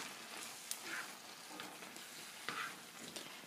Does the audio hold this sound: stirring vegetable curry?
yes